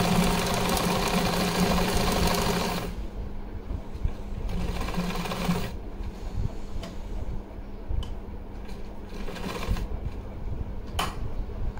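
A sewing machine stitches a wide light-green lace onto net fabric for a small lehenga-choli outfit. A loud, dense run of stitching fills the first three seconds, then continues more quietly with brief pauses and bursts.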